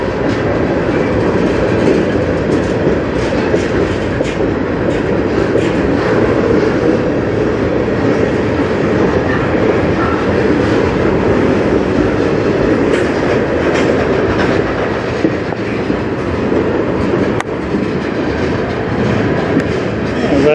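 A CN freight train of tank cars rolls past close by as it slows into a yard, a continuous loud rumble with clickety-clack wheel beats and occasional faint squeals, without speech.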